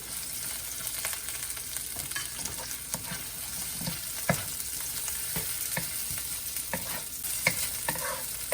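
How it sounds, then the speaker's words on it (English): Onion and garlic sizzle steadily in a hot pan, a continuous frying crackle broken by sharp clacks of a utensil stirring, moderately close, with no one talking. "Okay, now I'm going to put onion."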